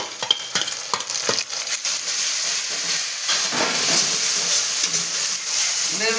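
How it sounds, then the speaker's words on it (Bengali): Onion frying in a pan for a Bengali fish curry with cauliflower and potato as garlic and ginger go in: a steady close sizzle with stirring clatter and a few sharp scrapes near the start. "পেঁয়াজ ভাজা ভাজা হয়ে গেল এবার রসুন আর আদাটা দিয়ে দিচ্ছি"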